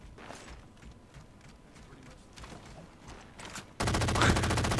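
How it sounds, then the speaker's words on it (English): A Tommy gun fires in the Halo 4 video game: after several seconds of quieter scattered in-game noise, a loud, rapid automatic burst of shots rattles out steadily until the end. "I have a Tommy gun now"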